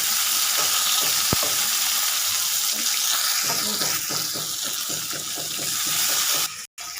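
Boiled cluster beans stir-fried in a pan with onions and curry leaves, a loud, continuous close sizzle with rhythmic stirring scrapes on top, ending with a brief dropout, and no one talking.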